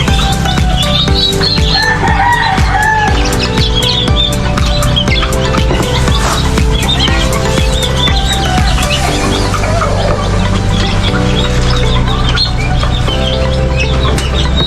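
Chickens cluck steadily and roosters crow repeatedly in a backyard flock, close and loud, with dense overlapping bird calls running through the whole stretch.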